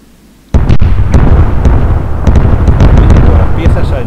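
A space station crashes and explodes in the video game Celestial Command: a sudden loud blast erupts after a near-silent start, followed by sustained rumbling debris and crackling bursts throughout.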